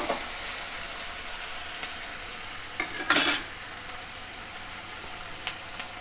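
Onions and tomatoes sizzle in a pan while a spoon stirs them, a quiet steady frying hiss broken by a few scraping clinks and one brief louder stirring rasp midway.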